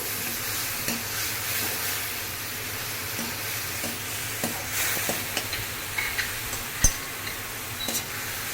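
Pointed gourd frying with turmeric in a pan, a continuous hiss of sizzling oil punctuated by irregular clicks and scrapes of a spatula stirring against the pan.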